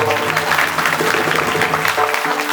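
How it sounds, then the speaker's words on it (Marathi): A crowd claps loudly and steadily at a devotional kirtan gathering in Yesgaon, Maharashtra, producing a dense, continuous wash of applause close to the listener. "सगळी बालगोपाळ एकदा जोरदार टाळी"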